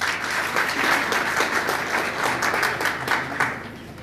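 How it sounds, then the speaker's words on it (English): Sustained, dense applause from a crowd of graduates at a graduation ceremony, many hands clapping together in a loud, continuous wash that eases slightly toward the end. "Can you clap hands for yourself, brothers?"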